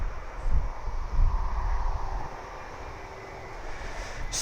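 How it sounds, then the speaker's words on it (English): A Boeing 737 airliner departs East Midlands Airport, a broad low roar that swells in two pulses early on, then eases into a steadier, softer rumble at moderate distance. "the Boeing 737s going off to Ibiza there and Corfu or wherever"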